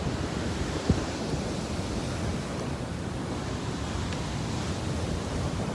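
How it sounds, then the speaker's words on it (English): Waves roll in and wash steadily onto a beach, filling the air with continuous broadband surf noise and a churning sea under wind, with no voices. "I love watching the waves come in."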